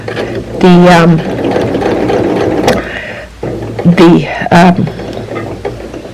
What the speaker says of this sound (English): I'm just doing a straight stitch